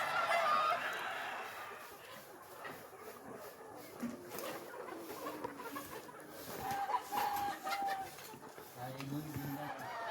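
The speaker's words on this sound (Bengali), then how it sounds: "শুধু মুরগির আওয়াজটা শুনে অবাক হয়ে যাওয়ার মতো" Sonali chickens cluck and call on a poultry farm, scattered near and mid-distance clucks heard beneath people talking throughout.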